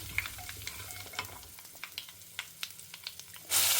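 Mustard seeds, fenugreek and asafoetida fry in a home pan with a steady sizzle. Sharp seed pops crackle through it at an irregular pace, and a louder hiss swells right at the end.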